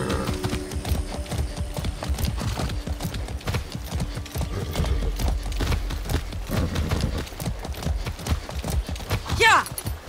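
A ridden horse gallops in Far Cry 6, its hoofbeats pounding in a quick, close rhythm while voices talk over the running steps.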